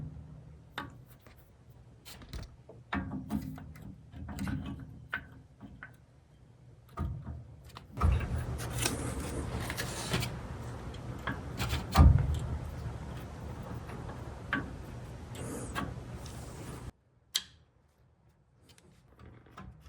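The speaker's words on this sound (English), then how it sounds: "Finally, we can install our pads." Brake pads being fitted into the caliper of a Volvo 240: scattered close clicks and metallic taps of parts seating, with a denser scraping, clattering stretch in the middle and a sharp knock near the end.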